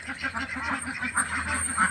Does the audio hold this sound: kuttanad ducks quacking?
yes